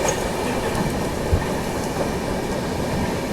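An express train runs along the rails between New Delhi stations, a steady loud rumble of wheels and wagons with faint clickety-clack, heard from on board with no talk.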